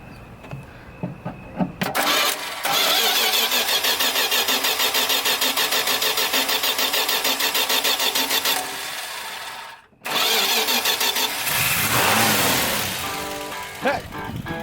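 A 1970 Plymouth Duster with a slant 6 engine, hard to start on the key, cranks in a long rapid churning run, pauses briefly, then cranks again and catches, loud and close.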